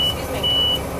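A bus engine runs at a steady idle, a continuous low hum with a faint high tone over it, lasting about a second.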